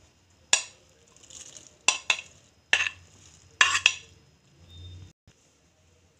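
A spoon stirs boondi into spiced yogurt raita with about five sharp clinks and scrapes against the bowl, close by, separated by short quiet gaps.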